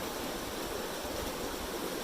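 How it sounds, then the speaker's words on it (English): A creek spills over small waterfalls into pools along a trail, giving a steady, even rush of flowing water that holds at a constant moderate level throughout, with no voices. "This creek is so cool. It's got little small waterfalls all over the place, and it forms these pools"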